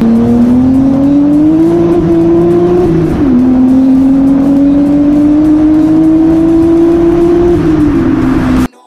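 A Nissan R34 Skyline GTR replica with a centre box, a large back box and a boost controller runs steadily and loudly. The engine and exhaust hold a smooth drone with slight rises and dips in revs, and the sound cuts out abruptly at the end.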